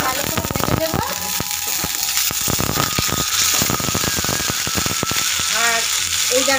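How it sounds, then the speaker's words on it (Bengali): Curry leaves and a dried red chili crackle and sizzle in hot mustard oil in a pan for tarka dal, a loud continuous spitting fry with sharp pops throughout. "এবার আমি দিয়ে দিলাম একটু সরষের তেল। আর এখানে দেখো আছে কারি পাতা ধুয়ে গুছিয়ে নিয়েছি, আর একটা শুকনো লঙ্কা"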